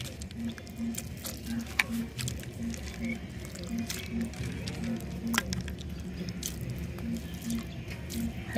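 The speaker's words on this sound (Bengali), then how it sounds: "তেঁতুলটাকে সুন্দর করে হাত দিয়ে কচলিয়ে নেব, তেঁতুলের বিচিগুলো সব ফেলে দেবো এক এক করে।" Soaked tamarind is squeezed and kneaded by hand in water, giving soft wet squishes and small splashes at close range that come in a loose, steady rhythm, with faint background noise.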